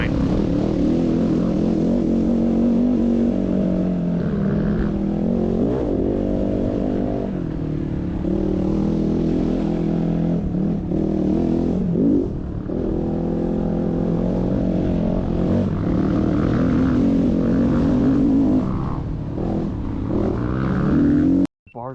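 Engine of a 2021.5 GPX FSE450R dirt bike runs steadily and loud throughout a ride, with rising and falling revs, up close and alone, cutting off abruptly at the very end.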